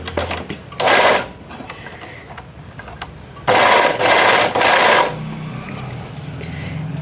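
A close, loud sewing machine stitches gum piping in two bursts, a short one and then a longer run broken by brief stops, with quiet handling noise between them.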